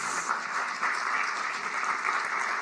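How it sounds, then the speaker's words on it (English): Audience applause at a homecoming event, a dense steady wash of clapping lasting a few seconds at moderate distance, with no voices over it. "Yeah, we can clap for that."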